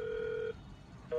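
A Hikvision DS-KIS603P(B) IP video intercom gives a steady electronic ringing tone. It sounds for about half a second, stops, then starts again, clear and close with no talk over it.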